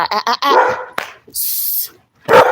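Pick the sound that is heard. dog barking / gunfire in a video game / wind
dog barking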